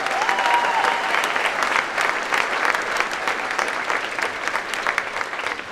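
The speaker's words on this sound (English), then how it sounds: "Let's give him a big round of applause." A hall full of people at a fall general assembly applauds a retiree, dense sustained clapping that holds steady for several seconds at close range and tapers slightly near the end, with no speech over it.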